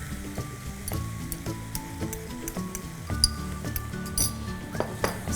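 A baby corn sauce with soy sauce and ketchup is stirred in a pan, giving repeated soft clinks and scrapes of a utensil against the metal over a faint sizzle, close and quiet, without speech.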